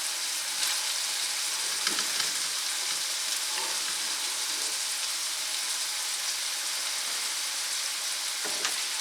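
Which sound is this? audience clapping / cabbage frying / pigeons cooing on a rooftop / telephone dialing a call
cabbage frying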